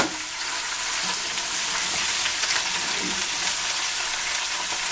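Chinese-style vegetables with bell pepper fry and get stirred in a hot pan, giving a loud, continuous close sizzle with faint scraping of the spatula throughout and no talking.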